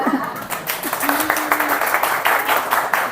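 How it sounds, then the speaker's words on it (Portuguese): Audience applause for the speakers at a family-themed church talk, a steady crowd clapping throughout with faint voices and a brief tone mixed in. "palmas para elas"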